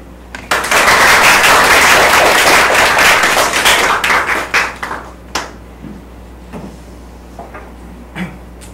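Audience clapping at a Korean forum lecture on back pain, a dense burst of many hands that swells loudly, then thins out into scattered last claps before fading.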